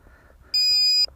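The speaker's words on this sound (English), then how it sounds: "That's my model finder starting to beep" A model finder alarm on an FX707S Albatross RC plane gives one loud, sustained, high-pitched electronic beep lasting about half a second. Faint background noise surrounds it.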